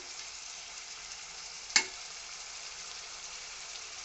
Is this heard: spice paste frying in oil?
yes